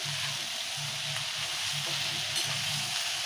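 Okra and very hot green chillies stir-frying in a pan for a quick bendakaya curry: a steady, loud sizzle with soft rhythmic stirring scrapes running throughout, no voices.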